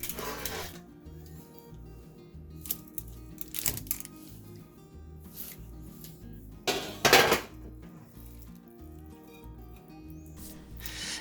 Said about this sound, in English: drop by rounded spoonfuls or cookie dough scoops onto an ungreased cookie sheet